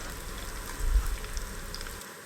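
Plantain chips frying in hot oil, a soft continuous crackling sizzle with scattered pops, fairly quiet and steady, briefly joined by a low thump of stirring.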